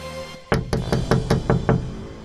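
Knocking on a door in an animated Hindi horror story: a sharp, loud series of about seven evenly spaced raps that starts abruptly after a quiet moment, with no voices.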